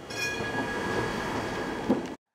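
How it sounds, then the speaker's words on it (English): A tram rumbles past very close with rail noise and its warning bell as a faint high ringing tone, then cuts off abruptly. "This bell was warning me to get out of the way because I almost got hit by this tram."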